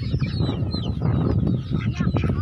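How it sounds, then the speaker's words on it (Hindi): Chickens cluck softly in a short, steady burst of close farmyard fowl calls with no talking. "हाँ मुर्गियाँ"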